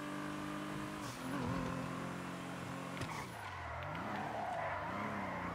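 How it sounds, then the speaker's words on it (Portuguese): A car in GTA V on PS4 drifts, its tires squealing in long, wavering, pitch-sliding tones over a revving engine, loud and continuous throughout. "Ó, dá pra fazer uns drift da hora aqui."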